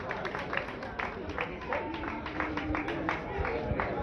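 Spectators at a regional women's road cycling race for the Allieve category in Lonate Ceppino clap and cheer from the roadside, a steady crowd noise with scattered claps running under continuous talk.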